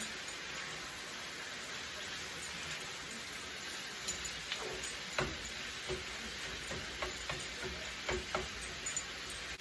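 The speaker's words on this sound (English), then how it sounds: "You just mix these vegetables really well" Vegetables seasoned with onion powder are stirred in a pan for lasagna, making faint scraping and light clicking strokes that come in a loose rhythm over a quiet, steady sizzle.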